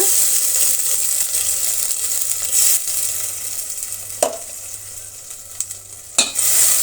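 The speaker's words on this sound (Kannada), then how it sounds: "ಈಗ ಈರುಳ್ಳಿ ಫ್ರೈ ಆದಮೇಲೆ ನಾವು ಮಿಕ್ಸ್ ಮಾಡಿಕೊಂಡಂತಹ ಮಸಾಲೆನ ಆ್ಯಡ್ ಮಾಡೋಣ." Chopped onion fries with ground masala paste for an egg dish, giving a loud, continuous sizzle close up, broken by the occasional clack and scrape of stirring in the pan, with no talking.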